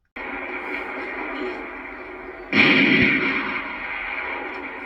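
A single sharp gunshot fired into the air in the film Cannibal Holocaust cracks out midway and rings off in a decaying echo over a steady background hum.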